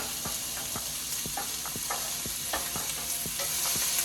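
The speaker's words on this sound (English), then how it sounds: "you're going to keep on doing this until your onions are translucent or browned up in a way" Onions fry in a pan with a steady broad sizzle while a utensil stirs them in regular repeated scrapes, close and fairly loud, with no voices.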